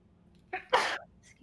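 A single sharp human sneeze with a brief intake just before it, close and clear against a quiet room.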